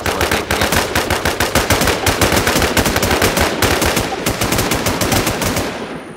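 Rapid, continuous automatic fire from a G36 rifle in the video game Infestation, loud and close, with evenly spaced shots rattling on for several seconds before stopping.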